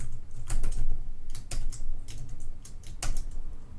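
Fast bursts of typing on a computer keyboard, close and crisp, with clustered keystrokes separated by short pauses and no talking.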